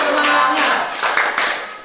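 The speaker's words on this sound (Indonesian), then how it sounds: "silakan tepuk semangat" A school class performs the rhythmic 'tepuk semangat' spirit clap, a loud, close run of patterned group claps and taps in quick bursts.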